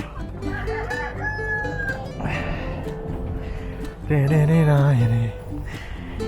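An Ispenç rooster crows loudly and nearby, one long strained call in the middle, with other softer fowl calls and clucks around it.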